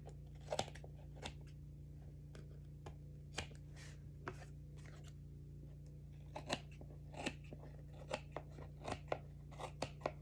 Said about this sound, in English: let's flip this over and just trim off whatever's hanging off